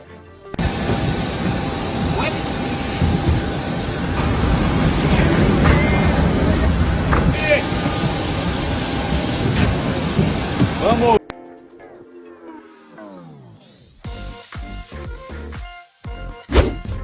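Airplane jet engines as a football team boards a flight to Dallas: a loud, steady roar with a high whine for about eleven seconds, then an abrupt cut to quieter clattering and thumps.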